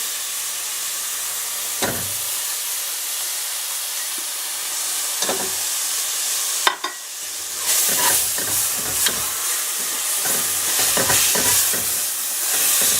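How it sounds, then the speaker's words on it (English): Tomatoes hit hot oil for a red lentil vegetarian biryani, setting off a loud, close, continuous sizzle broken by spoon scrapes and stirring clatter, with the frying swelling after the tomatoes are added. "And then I'm going to put my tomatoes in there."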